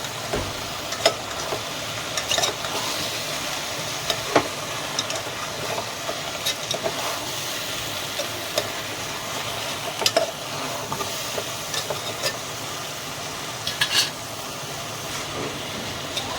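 Tomato, onion, crushed ginger and garlic sizzle softly in a pan for sambar, a steady low hiss broken by occasional stirring clicks and scrapes.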